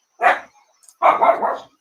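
A pet dog barks indoors, two loud close barks with the second drawn into a short run of yips, no talking over it.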